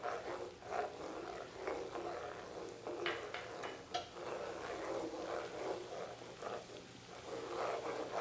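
Chopped garlic cloves drop into a hot pan with shrimp, giving a soft continuous sizzle with light scraping and stirring clatter, fairly quiet throughout.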